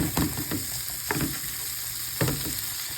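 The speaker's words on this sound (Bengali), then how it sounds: "পেঁয়াজের সাথে চিংড়ি মাছ ভেজে নেবো।" Shrimp fry with onion in a hot pan, a dense, steady sizzle with sharp stirring scrapes and taps breaking through at intervals, close and alone without talk.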